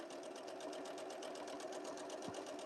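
Sewing machine stitching the seams of a small fabric bee pouch, a steady fast rhythmic whir of needle strokes running continuously, soft and close, without talk.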